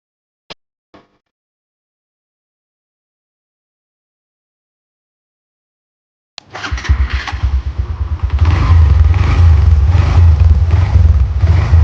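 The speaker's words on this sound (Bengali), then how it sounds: "চলেন এবার বাইকটি রাইড করা যাক" After a few faint clicks and long silence, a Hero Xtreme 125R 125cc motorcycle engine starts and runs steadily, growing louder as it gets underway.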